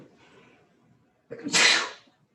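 One close, sharp sneeze bursts out after a faint low murmur, a quick inhale followed by a loud hissing expulsion that fades within half a second.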